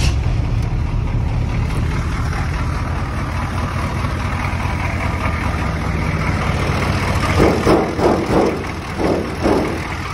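The diesel engine of a 1986 K5 CUCV Blazer idles just after starting, a steady, loud, low rumble running throughout, with a few louder rhythmic pulses near the end.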